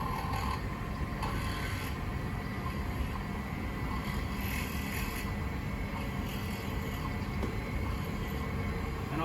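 Countersink bit lightly cutting a bevel into a metal sample for riveting, a steady mechanical grinding whir with faint metallic scraping, continuous and fairly close with no talk.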